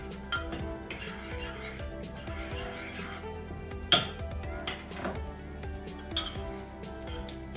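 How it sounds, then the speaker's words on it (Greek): A spoon stirs breakfast in a bowl, clinking and scraping against the sides in a steady irregular rhythm, close and moderately loud, with one sharper knock partway through and faint talk in the background. "Και ανακατεύουμε και πάλι."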